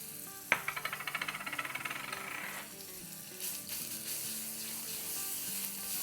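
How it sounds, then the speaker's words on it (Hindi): Garlic paste hits hot oil in a wok with a sharp initial splash, then a loud, steady sizzle and bubbling frying that continues throughout, with no talking. "इसमें हम तेल डालेंगे और उसमें हम डाल देंगे 1 टीस्पून लहसुन का पेस्ट"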